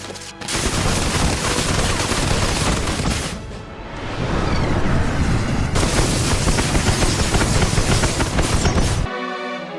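Singijeon, the Joseon-era rocket arrows, fired in a launch demonstration: a loud, dense salvo of roaring, crackling bursts that dips briefly near the middle, surges back, then cuts off abruptly.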